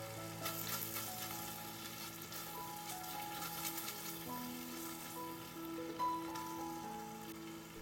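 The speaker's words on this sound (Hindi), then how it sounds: "अच्छे से मिक्स कर लेते हैं।" Kadai masala and kasuri methi fry in a kadai with a soft, continuous sizzle as they are stirred, heard close but quietly, with no speech.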